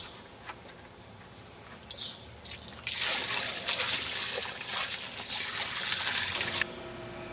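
Water from a hose poured onto a large expanding coir grow block, starting as faint trickles and building into a steady, loud rushing pour that stops abruptly, with birds faintly in the background outdoors.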